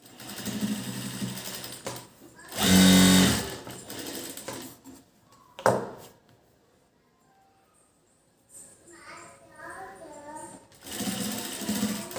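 A sewing machine stitches a blouse in two short, loud bursts of rapid mechanical chatter, one early and one at the end, with someone talking in between.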